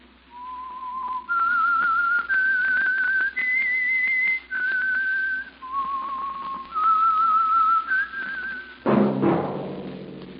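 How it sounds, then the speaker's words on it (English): Whistled theme tune for The Whistler radio mystery show: a lone melodic whistle of sustained notes stepping up and down in a clear phrase, followed by a burst of orchestral music. "That whistle is your signal for the Signal Oil Program, The Whistler."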